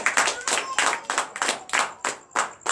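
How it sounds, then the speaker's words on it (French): A church congregation claps in a steady rhythmic beat during an evening deliverance and prophecy service, the claps close and bright with voices acclaiming mixed in between them. "Donnez l'acclamation à Jésus."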